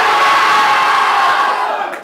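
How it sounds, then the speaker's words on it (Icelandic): A crowd in red at a KA vs Þór handball match screams loudly as if a goal were scored, a sustained roar of shouting voices filling the hall for the whole moment before tapering off. "Nenni öskra eins og einhver að vera að skora."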